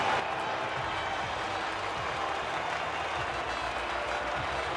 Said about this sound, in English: they thoroughly deserve the cheers of the crowd here today.